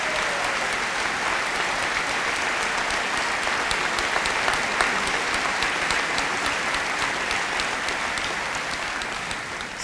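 A large crowd at a high school graduation ceremony in Angola, Indiana, claps steadily and densely for about ten seconds, a sustained wash of applause slowly tapering toward the end.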